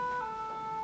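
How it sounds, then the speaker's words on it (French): Ambulance and fire truck sirens wail steadily outside a home, a continuous high tone that shifts pitch partway through, moderately distant with no talking over it. "Ambulance, camion de pompiers."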